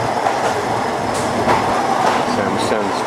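A passenger train leaving Bangkok for Ayutthaya runs steadily on the rails with a continuous loud rumble and rattling wheel clatter, heard from inside the carriage with faint background voices.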